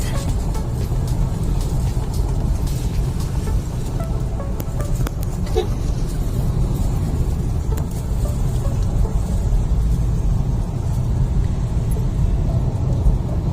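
A Ford Ranger Wildtrak pickup cruises and overtakes on a highway, heard from inside as a loud, continuous low road rumble and engine drone with steady wind and tire noise throughout.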